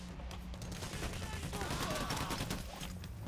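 Rapid gunfire crackles in Payday: The Heist, a dense run of sharp shots repeating without pause across the whole short stretch, at a moderate distance.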